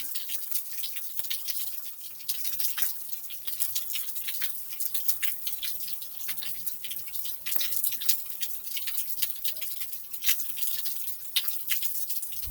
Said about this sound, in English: we get to hear some rain in the background of our story